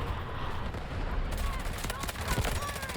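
Rapid automatic gunfire in the shooter game Delta Force from a K416 rifle build, a dense burst of repeated cracks over a busy, noisy game mix, with a voice talking partway through.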